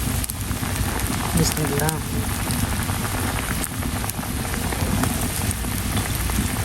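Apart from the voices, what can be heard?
fish curry broth poured into a sizzling pan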